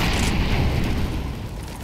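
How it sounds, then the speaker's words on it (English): A grenade blast in CS:GO on the Dust 2 map: a loud, deep boom right at the start that rolls off into a decaying rumble over a couple of seconds, with no talking. "I like to throw my nade here."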